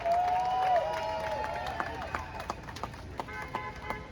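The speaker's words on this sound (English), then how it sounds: "Let's give him up a big round of applause." A crowd claps and cheers amid a noisy rally in New York City, with a bright whistle-like tone early on and scattered sharper claps toward the end.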